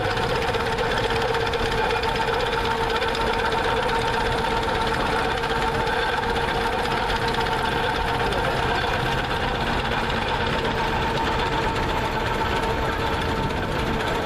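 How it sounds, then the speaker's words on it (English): A rare vintage tractor, one of only two known to exist, runs steadily in a parade, its engine giving a continuous, loud, knocking mid-pitched drone throughout with no speech over it. "this tractor is one of only two known to exist, and certainly one that only two in running order"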